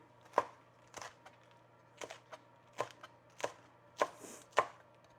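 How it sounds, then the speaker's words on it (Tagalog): A knife slicing eggplant on a cutting board, sharp close chops landing in an uneven rhythm of about eight strikes with short gaps between them, no talking. "Pa-slice ang gawin nyo"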